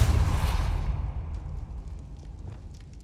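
An Expulso exploding spell bursts in Hogwarts Legacy: a heavy boom at the start that rolls off into a fading rumble and scattered debris clatter over a few seconds.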